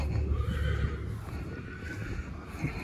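Horses whinny and neigh nearby, a loud continuous chorus of calls with some muffled hoof movement underneath.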